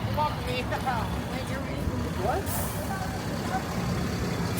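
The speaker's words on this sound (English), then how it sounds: "This is the Crosstown bus." A Crosstown city bus rumbles along Second Avenue in Manhattan, its engine drone blending with loud, continuous street traffic, a short hiss of air brakes, and faint voices nearby.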